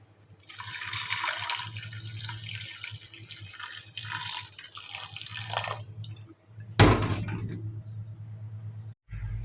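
Tamarind water poured into rasam, a steady splashing pour of liquid that runs for several seconds before stopping, then a brief louder splash, with a low hum underneath and no talking.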